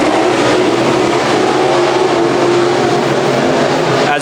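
Pro Modified race cars roar loudly and continuously as they lap the oval track in a heat race, with a dense engine drone and no clear gaps.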